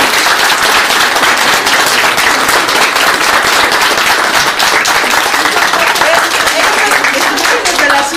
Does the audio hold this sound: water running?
no